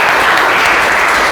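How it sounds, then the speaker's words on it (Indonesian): Classmates clapping in a school music lesson, a brief, loud, close burst of dense applause filling the whole moment without speech. "Tepuk tangan teman-teman."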